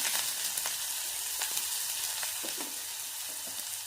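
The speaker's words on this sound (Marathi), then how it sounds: "इथे आपण कांदा थोडासा लालसर करून घेणार आहोत" Finely chopped onion fries in oil with cumin seeds in a pan, a constant close sizzle broken by occasional scraping stirs and light clinks of a spoon.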